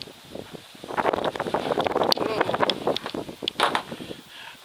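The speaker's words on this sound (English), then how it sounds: "I said it was windy." Wind gusting outdoors while bonsai pots are being worked, blustery buffeting that rises and falls, with rustling and a few sharp knocks and scrapes close by.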